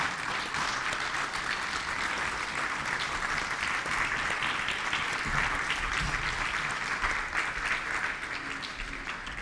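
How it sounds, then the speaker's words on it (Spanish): A standing church congregation applauds, a thick, continuous wash of clapping that fills the room evenly and stays strong throughout, with some low rumble of movement partway through. "Pónganse de pie, démosle un fuerte aplauso al Señor."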